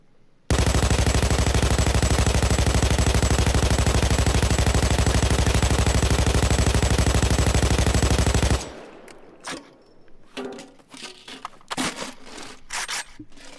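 An RPK light machine gun in Payday 2 fires one long full-auto burst of about eight seconds, loud and dense, then stops, followed by sharp reload clicks and clatters.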